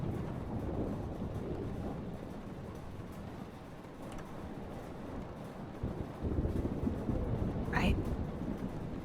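Stormy weather in the video game Life is Strange: a steady roar of wind and rain with low rumbling, growing slightly louder near the end, with no talk over it.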